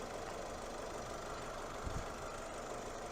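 A 2023 Cadillac CT5 Premium Luxury's 2-liter turbocharged 4-cylinder engine idles under an open hood, a steady close hum with a brief low thump near the end and no voices.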